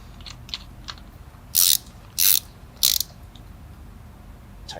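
A ratchet tightens the bolts of a Racebox logo pulley with a rear spacer from a VR30 pulley kit, giving three short, loud bursts of rapid clicking separated by brief pauses, with faint ticks between them.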